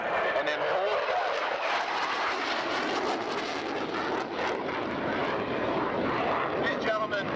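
A military jet airplane performs a jink maneuver at the 1990 Selfridge airshow. Its engine roars loud and steady throughout, with a rising sweep early on, while an announcer talks over it.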